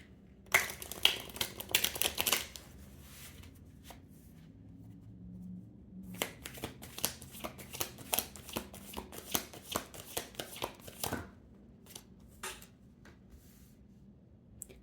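A deck of tarot cards is shuffled by hand in several bursts of rapid riffling and flicking, close and crisp, separated by quiet pauses.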